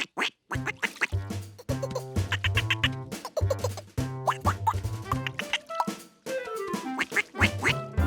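Cartoon ducks quacking in a children's animated episode, a busy run of loud, close, overlapping nasal quacks with bouncy cartoon effects mixed in and no talking.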